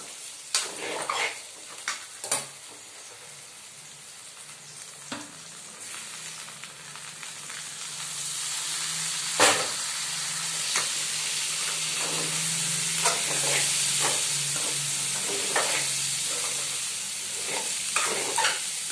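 Tomatoes frying in a pan, with a soft hissing sizzle that swells louder partway through, punctuated by sharp knocks and scrapes of a spoon stirring against the pan, close up and with no speech.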